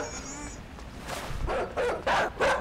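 A dog in the Minecraft video game gives a short series of yips and barks, four quick rising bursts following a faint whimpering tone at the start.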